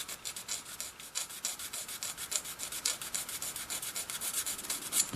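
Coarse side of a file rasping over a plastic model part, a quick, steady run of close scraping strokes, fairly quiet and with no one talking.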